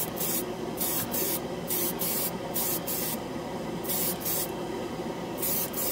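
ChromaAir paint sprayed through an airbrush onto a plastic scale model: a close, steady hissing spray broken into repeated short bursts with brief pauses, no talking.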